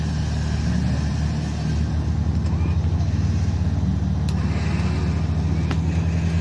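An off-road car engine drones loudly and steadily up close, a low rumbling hum throughout with faint clicks and knocks above it.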